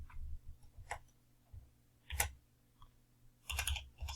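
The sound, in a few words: typing on a computer keyboard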